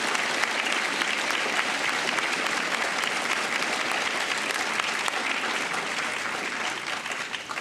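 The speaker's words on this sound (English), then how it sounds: "So if everyone can give a round of applause" Sustained applause filling the hall at a National History Day awards ceremony, many hands clapping steadily before tapering slightly at the end.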